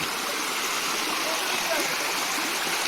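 A waterfall stream at Ajodhya Hill in Purulia rushes in a constant broad roar of flowing water, close and loud with no break, with voices faintly mixed in.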